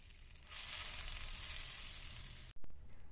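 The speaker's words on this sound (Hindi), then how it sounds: "तो मैं 1 टेबल स्पून इसमें बटर डाल रही हूँ।" Butter sizzles as it melts in a kadhai over a gas flame, a bright steady frying hiss rising suddenly and holding for about two seconds before a brief cut and a few knocks.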